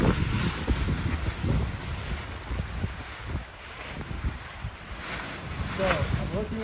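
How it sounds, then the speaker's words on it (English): Strong, gusty wind buffets the microphone in a steady, rumbling roar while a wing is hand kited outdoors near water; a voice speaks briefly near the end. "And you don't want to be in wind like this for sure, right?"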